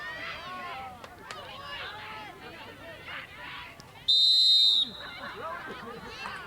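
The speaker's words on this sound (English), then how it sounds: "And a whistle on that play." At a girls' varsity soccer game, a referee blows one sharp, loud whistle blast of under a second, cutting through crowd chatter and an ongoing commentator's voice.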